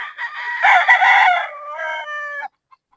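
A gamefarm rooster, a medium-sized Boston Gilmore fighting cock, crows once in a loud, close, drawn-out call lasting over two seconds, ending abruptly, with no talk over it.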